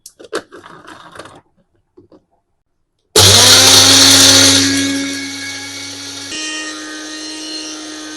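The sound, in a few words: mixer grinder grinding homemade pav bhaji masala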